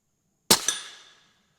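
A single sharp 8.6 Blackout rifle shot cracks out of silence, followed by a quick echo and a short ringing tail that fades within a second.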